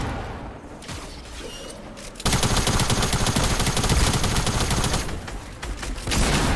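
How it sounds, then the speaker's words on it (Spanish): Rapid automatic gunfire from a Fortnite battle royale match bursts in after a quieter stretch, loud sustained volleys with brief dips, close and dominating the scene, with no one talking over it. "¡Pero si le estoy disparando!"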